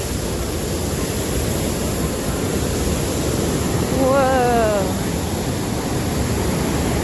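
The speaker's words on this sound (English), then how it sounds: "Roaring, raging river, and then going downhill." A roaring river rushes below a high footbridge on a solo backpacking hike, its loud, steady broadband rush filling the whole stretch, with a brief exclamation from a hiker partway through.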